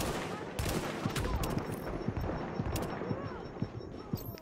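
In The Division, a sniper's shot strikes the player amid rapid, sharp gunfire cracks that repeat irregularly over a dense, loud background of game noise.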